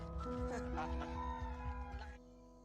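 A fighting cock crows loud and close, one drawn-out call with clucking from other fowl around it, and the crow cuts off sharply near the end.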